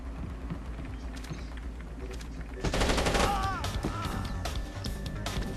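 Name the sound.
gunfire in a video game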